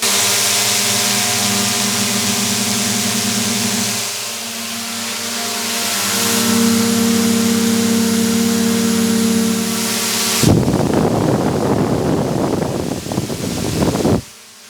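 DJI Mini 3 drone fitted with Master Airscrew stealth propellers, a steady tonal whir with stacked harmonic hum, loud and continuous before turning into rougher, broadband rushing near the end.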